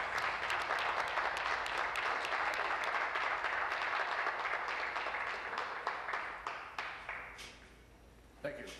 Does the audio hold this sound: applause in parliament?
yes